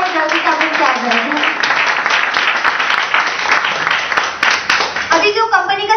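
Audience at a network-marketing seminar in Kalyan breaking into a burst of clapping, dense and loud applause that sustains for several seconds, then a voice speaks over the tail end.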